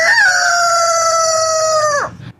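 A voice imitates a rooster crow, a single loud, sustained cock-a-doodle-doo with a tonal sweep that drops off sharply at the end, heard alone without other talk.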